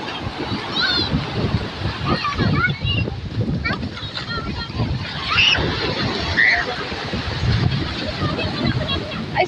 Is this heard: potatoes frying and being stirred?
no